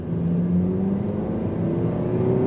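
A 2025 Nissan Sentra compact sedan accelerates, its engine droning with a rising whirring pitch as revs climb steadily, heard from inside the car at moderate loudness with no talking.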